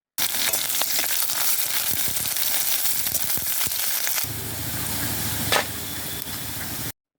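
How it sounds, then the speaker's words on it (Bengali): Chopped onions fry in mustard oil in a wok, giving a steady, close hiss and crackle. Partway through, the sizzle grows fuller and smoother, with one brief sharper burst near the end. "এরপর এর মধ্যে আমরা কিছু কুচনো পেঁয়াজ দিয়ে দেব।"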